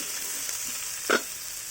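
Masala paste sizzling as it fries in a pan for kanthari chicken, a steady soft crackle that stays low and even, with one brief louder scrape of stirring near the end.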